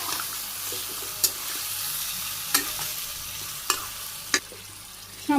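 Yogurt-marinated chicken meat frying in spices with potatoes for a Bangladeshi village chicken biryani, a steady close sizzle broken by a few sharp scrapes of stirring against the pot.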